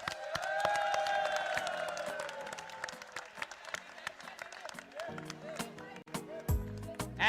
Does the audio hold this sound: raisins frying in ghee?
no